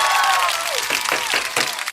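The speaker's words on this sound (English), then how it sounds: "Can I get a round of applause?" A short burst of applause and cheering, bright and close, swells over about two seconds and cuts off abruptly, sounding like a canned crowd effect.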